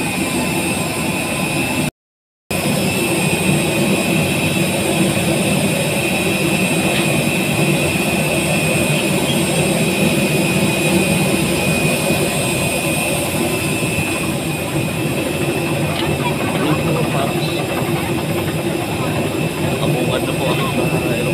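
Airplane engines run at the airport before a flight to Pagadian, Mindanao, producing a loud, steady drone with a constant whine that continues throughout, with voices faintly in the background.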